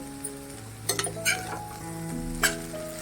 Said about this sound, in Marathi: जेव्हा नूडल्स टाकल्यावर आपण परततो तेव्हा गॅस जरा मोठा ठेवा आणि सारखं हलवत राहायचं